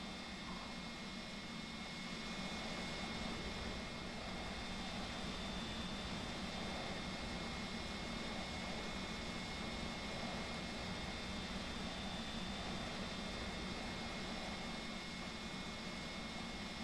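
MD-80 jet engines spooling on takeoff in the X-Plane 12 flight simulator, a steady broad roar with a faint high whine holding evenly throughout, no speech.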